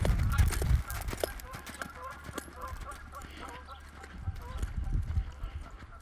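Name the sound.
horse loping, hoofbeats during lead change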